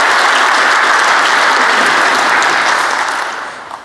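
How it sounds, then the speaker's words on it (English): A loud, dense round of applause fills a keynote hall at a tech conference, steady and sustained before easing off toward the end. "So I want to give a round of applause for all the folks that have been doing great work inside of these projects"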